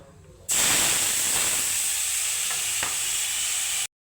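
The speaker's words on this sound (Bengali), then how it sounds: "কড়াইয়ে দিয়েছি আমি তেল জিরে ফোড়ন আর দারচিনি" Cumin seeds and cinnamon drop into hot oil in a wok, bursting into a loud, sudden sizzle that holds as a steady hiss for over three seconds, then stops abruptly.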